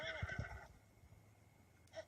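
A horse in the video game Zelda Breath of the Wild gives a loud, quavering neigh up close, followed by quiet ambience and a faint short sound at the end.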